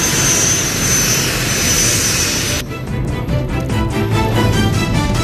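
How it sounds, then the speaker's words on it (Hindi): Military aircraft and helicopters built in India roaring at the Aero India air show in Bengaluru, a loud sustained jet roar that cuts abruptly into rhythmic, pulsing rotor and engine noise. "बेंगलुरु एरो इंडिया शो में गरज रहे देश में बने विमान और हेलीकॉप्टर"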